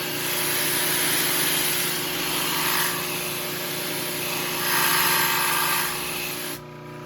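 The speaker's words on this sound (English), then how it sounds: "if you need to go back to the spindle sander, you can" A spindle sander works a small piece of wood for a band-saw intarsia box, giving a steady, close abrasive whir with rubbing swells that cuts off sharply near the end.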